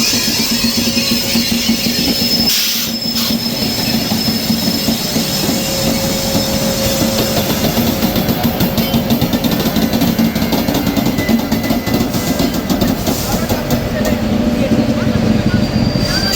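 The Sealdah–New Delhi Rajdhani Express pulls slowly out of Sealdah station with a loud, continuous rumble of wheels and rolling stock, faint squeals and rhythmic clatter, and voices talking over it.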